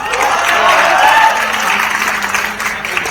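Loud, close crowd applause at a poetry recital during the Kannauj festival, a dense roar of clapping that swells and then gradually thins, with a voice faintly audible beneath it.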